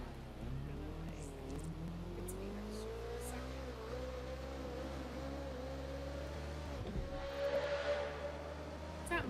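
A car engine in the video game Watch Dogs Legion drones with a steady tonal hum that rises and falls in pitch as the car drives, with a brief revving surge toward the end.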